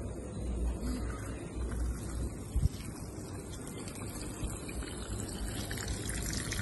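An automatic plant sprinkler sprays water in a steady, continuous hiss with a low rushing undertone, fairly close, broken by one brief knock near the middle.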